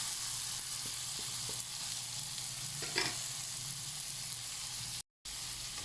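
Shrimp frying in a pan for Filipino pinakbet, a steady close sizzle with faint stirring clicks throughout and no talk.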